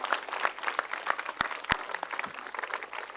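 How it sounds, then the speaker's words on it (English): Audience applause at a school annual concert, a crowd clapping steadily for children and teachers, with a few sharp, louder individual claps standing out near the front. "A big round of applause for all our children and for all our teachers."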